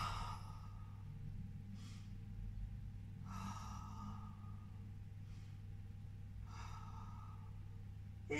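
Slow exercise breathing: airy exhalations come in steady, spaced puffs every second or two, faint and close over a constant low hum of background music.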